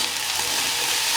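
Ginger garlic paste sautéing in a kadai, a steady close sizzle and frying hiss that holds evenly throughout with no talk.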